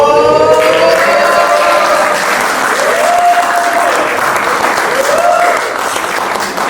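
Applause from the crowd at a French one-man comedy show, a loud, continuous roar of clapping hands that holds steady and eases slightly near the end, with faint tonal whistles above it.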